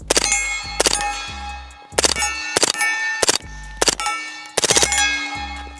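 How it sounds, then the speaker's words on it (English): Spent brass casings from rapid gunfire with a Low Light Innovations MH-1 suppressor ring and clink as they land. Bright metallic tinkles come in quick clusters between sharp, loud shots, repeating several times with no talk. "You can hear the brass landing."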